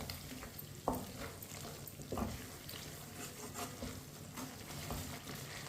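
Spices frying in a pan while cooking daal bhindi, a faint soft sizzle with a few scraping stirs and light clinks, quiet and close, no talking.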